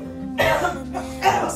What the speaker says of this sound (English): You wanted to cough?